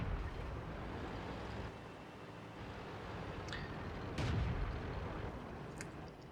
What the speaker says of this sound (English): KV-3 takes a gnarly shot to the face from the SU-152